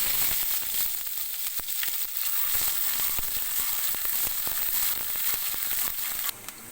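Ginger garlic paste fries with cumin and spices in a pan for mutton karahi, giving a steady close sizzle and crackle with occasional stirring scrapes, and no talking.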